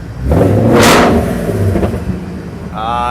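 A custom Scarliner car with a fabricated chassis revs its engine through the exhaust in a loud, close burst that swells and fades, followed by a second smaller rev, while a voice is faintly heard toward the end.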